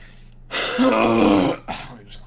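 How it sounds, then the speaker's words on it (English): A man clears his throat once, a short, rough, gravelly rasp. He is close to the mic and talking before and after it. "Let me just clear my throat"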